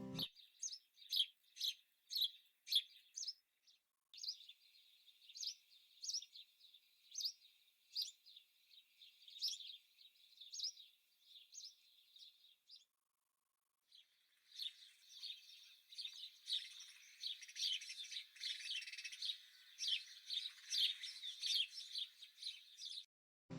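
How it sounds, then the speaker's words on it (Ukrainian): A house sparrow sings in a run of quick, bright chirps and tweets, first in separate short bursts and then in a denser, continuous chatter, close and clear with no voices. "Давайте послухаємо, як співає горобчик."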